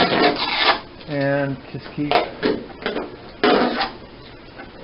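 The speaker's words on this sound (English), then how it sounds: "now that I've got it going, I can work in here with my rounded off putty knife" A rounded-off putty knife scrapes and rasps along as tape peels loose from a fabric-covered aircraft part, with short gritty strokes and a brief squeaky rub, up close, while someone talks briefly.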